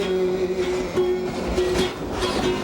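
A Hawaiian sugarcane train near Lahaina rolls steadily along the rails with a rhythmic clatter of wheels over rail joints and a faint tonal squeal, heard close and continuous.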